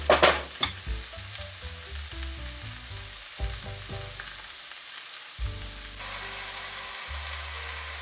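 Pork and onions frying in a pan give a steady close sizzle with stirring scrapes, while a music bed plays underneath throughout.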